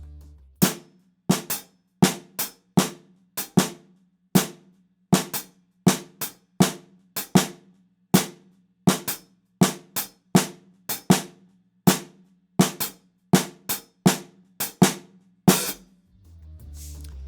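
Sharp drum hits repeat steadily at a slow pace in an interlocking four-over-five polyrhythm, with a low hum underneath and no voices.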